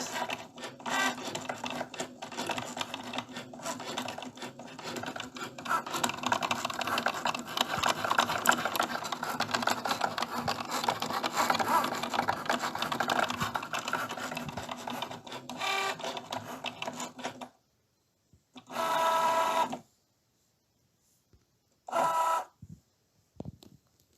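Cricut Joy cutting machine working on a keychain, a steady mechanical whirring and buzzing of the motor and carriage for a long stretch, then stopping, followed by two short bursts of motor movement.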